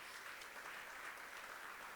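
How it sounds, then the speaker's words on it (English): Faint, steady applause from a luncheon audience at a Latino leaders event, an even wash of clapping heard at a distance with no talk over it. "let's give her a round of applause for her incredible leadership"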